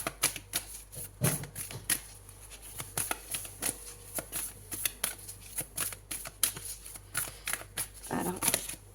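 Tarot cards handled and drawn from a deck during a reading, giving a run of crisp, close clicks and flicks in irregular bursts, with soft rustling between them.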